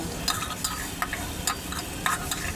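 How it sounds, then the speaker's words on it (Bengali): Fish heads fry with spices in a pan under a steady sizzle, stirred with a utensil that scrapes and taps the pan in about seven distinct, close strokes. "মাথাগুলো কষানোর জন্য আমি ভালো করে নেড়ে চেড়ে নিলাম"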